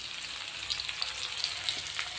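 Spices hit onions frying in a pan and set off a steady bright sizzle, close and even, with small pops and crackles and no voices.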